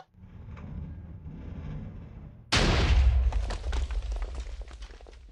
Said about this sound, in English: We have an explosion.